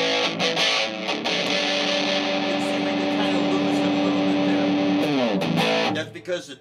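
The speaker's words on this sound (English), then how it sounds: "the dirt or the distortion is all the way up" An electric guitar plays through a Monkey FX overdrive pedal with the distortion turned all the way up. It gives a sustained, heavily driven tone with a few picked notes, then a chord that cuts off near the end.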